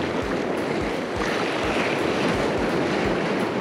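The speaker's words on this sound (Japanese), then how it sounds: "波がそこそこあるんで、" Sea waves slapping and washing steadily at a fishing spot, a continuous broadband rush with regular low thuds of water against the shore or hull, no talking.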